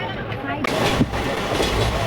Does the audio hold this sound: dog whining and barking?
no